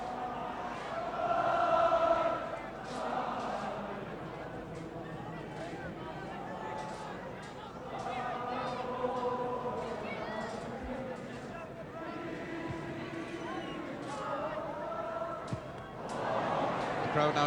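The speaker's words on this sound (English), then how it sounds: "Crowd now singing the Welsh national anthem, hoping to inspire their men." A large stadium crowd at a Wales v Iceland football match sings the Welsh national anthem, a dense, sustained wash of massed voices with swelling tonal lines that carries steadily throughout.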